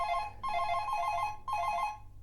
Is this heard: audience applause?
no